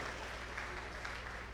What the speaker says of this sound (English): Please give another round of applause to the father of the day